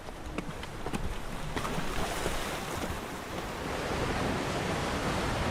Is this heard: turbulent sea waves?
yes